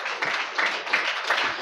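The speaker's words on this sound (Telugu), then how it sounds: "నమ్మిన వారు గట్టిగా దేవునికి చప్పట్లు కొట్టి స్తోత్రం చెప్పండి" A Sunday worship congregation claps in praise, a crowd of hands striking together in a steady, even rhythm of loud bursts about three per second.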